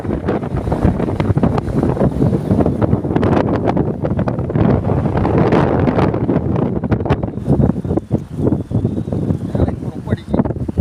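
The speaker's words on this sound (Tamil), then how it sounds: "காற்று எப்படி அடிக்குன்னு பாருங்கள்," Strong wind blowing outdoors during a stick-rod fishing outing, a loud continuous roar buffeting the microphone, with voices faintly mixed in.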